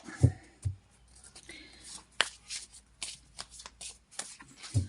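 Playing cards are riffled and shuffled by hand, close up, in a few quick bursts with soft flicks and taps between.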